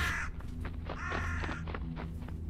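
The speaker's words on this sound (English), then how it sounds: "Bro, there's crows everywhere." Crows caw repeatedly in the Chilla's Art horror game Jisatsu, harsh overlapping calls layered over a steady low background drone for a couple of seconds.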